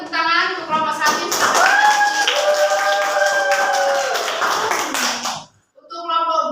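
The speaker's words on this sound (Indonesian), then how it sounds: "Beri tepuk tangan untuk kelompok 1." A classroom of students clapping for group 1 after a presentation: a burst of many hands clapping together, with children's voices and a sustained sung or shouted tone over it, then a brief pause before voices resume.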